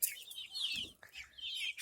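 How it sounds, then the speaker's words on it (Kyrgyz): Brahma and half-Brahma chicks about a month and twenty days old cheep in rapid, high, overlapping peeps, close by and continuous with brief pauses, no talking. "Ушундай чыгарабыз, ушундай жөжөлөр чыгат."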